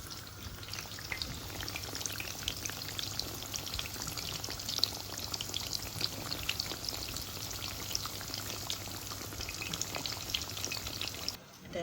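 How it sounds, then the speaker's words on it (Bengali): Beguni, battered eggplant fritters, fry alongside potato pieces in hot oil, giving a steady, fairly quiet crackling sizzle that continues unbroken with no voices. "বেগুনি ফ্রাই দিছি আর রয়েছে আলু আর বেগুনি ফ্রাই পিস রয়েছে"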